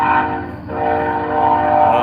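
A train horn blares steadily nearby over the low rumble of a passing train, sustained for the whole stretch.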